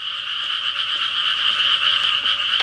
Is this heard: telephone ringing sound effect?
no